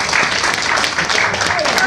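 Comedy club audience applauding at a stand-up night, a dense, steady patter of clapping from the crowd that runs through the whole short stretch without a break.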